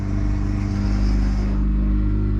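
Boat engine on a 2024 Stabicraft 2500 Ultracab, a loud, steady low rumble and hum as it runs in gear, close and continuous without speech.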